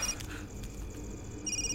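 A telephone rings with thin, high electronic tones in short bursts at the start and again near the end, fairly quiet over a steady background hum.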